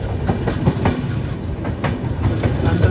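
The Rapti Sagar Express, running from Ernakulam to Barauni, pulls into Chandrapur railway station in the rain, a steady close rumble with rhythmic wheel clatter throughout.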